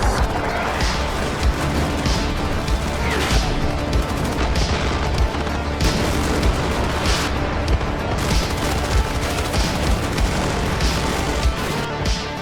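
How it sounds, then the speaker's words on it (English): Mortar fire falling on troops in the wargame Armored Brigade II: a steady, loud barrage of overlapping blasts, crashes and booms with scattered gunfire, continuous throughout. "that's when mortars begin to fall on my troops in the center"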